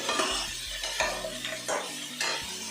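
Elephant foot yam being stirred in a pan for a vegetarian kasundi dish, a utensil scraping and knocking against the pan in repeated strokes, with a faint sizzle underneath, close and alone.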